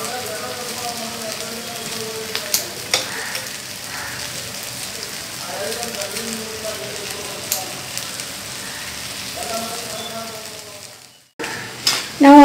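Bhetki fish scramble with spring onion stir-frying in a pan, a steady close sizzle with scattered stirring clatters and scrapes, a brief drop near the end, and a little voice now and then.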